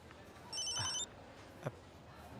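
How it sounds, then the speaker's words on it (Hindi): A telephone rings once in a quiet room during a Hindi film scene, a brief bright electronic trill followed by a soft thump and low background hush. "अबे किसका फोन है?"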